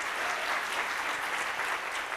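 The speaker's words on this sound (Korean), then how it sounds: "우리 원로 장로님께 큰 박수로 감사 표하겠습니다" A church congregation at a youth worship service breaks into sustained, dense applause for a retired elder, many hands clapping steadily from the room.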